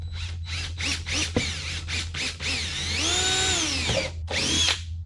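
A power drill bores holes into a Harley-Davidson tour pack, whining in several short bursts that rise and fall in pitch, then one longer run and a final burst, loud and close with no talk.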